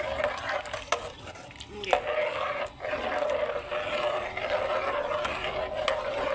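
Kadhi made with yogurt and gram flour being stirred in a pot, with continuous scraping and soft sizzling and a few sharp spoon clicks, close and fairly loud.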